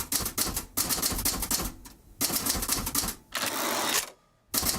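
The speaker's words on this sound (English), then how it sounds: "I'm typing up my recollection of the meeting." Typewriter keys clack in quick bursts of strikes separated by short pauses, close and fairly loud, with one longer steady rasp near the end like the carriage or paper moving.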